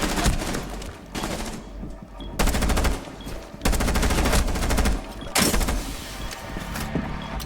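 Rapid video game gunfire in a competitive shooter match, loud overlapping automatic bursts arriving in several clustered waves separated by short quieter gaps.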